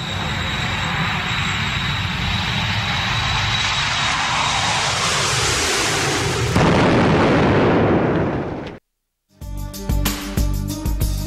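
An airplane engine sound effect follows a boarding call for a flight, with a loud, close roar that holds for about eight seconds, then cuts to a brief silence before a rhythmic, music-like passage begins.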